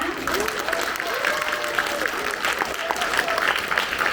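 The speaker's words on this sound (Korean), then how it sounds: "박수를 다시 한번 부탁드립니다." Concert audience applause after an operatic aria, moderately loud and continuous, with a faint voice briefly audible beneath it.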